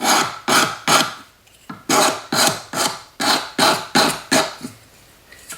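Sandpaper rubs back and forth over a handmade anticlastic ruffled metal cuff to smooth file marks, about a dozen loud, even rasping strokes in a steady rhythm, close up with no talk.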